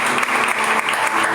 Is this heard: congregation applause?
yes